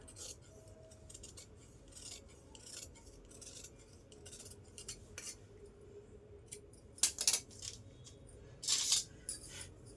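Scissors cut through blouse fabric with light, crisp metallic snips, quiet and close, with a few louder clicks toward the end and no talking.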